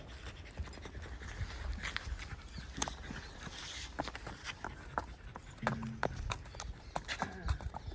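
Hooves of a pregnant mare clip-clop in an uneven walking rhythm over a busy outdoor background, with occasional snorting and voices nearby.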